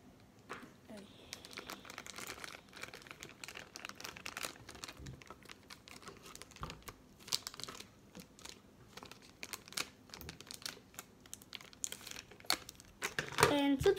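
A plastic toy package for a Zillion Zeus being cut open, with crinkling plastic and small snips and rustles throughout, ending in a sharper louder crackle; a voice can be heard in the background.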